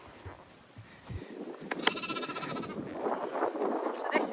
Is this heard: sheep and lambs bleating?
yes